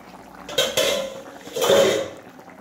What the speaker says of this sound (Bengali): এখন আমি ঢাকনাটা খুলে নিচ্ছি